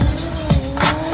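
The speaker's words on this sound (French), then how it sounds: "On rechauffe un petit peu les pneus du GSXR 750 de Sarah." A Suzuki GSX-R 750 stunt motorcycle warms its tyres at a stunt show in Valence, giving short bursts of squealing rubber and engine whine that rise and fall in quick surges close by.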